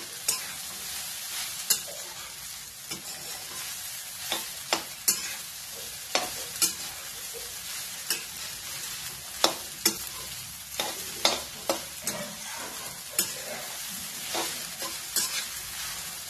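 Sabudana khichdi being stirred and roasted in a pan over a high flame, a steady sizzle broken by repeated sharp scrapes and taps of the spoon against the pan, close and clear with no talking.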